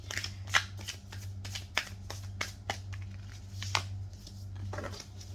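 Tarot cards being shuffled by hand, a series of crisp, close riffling flicks and soft slaps as the cards bounce, spaced irregularly over a low steady hum.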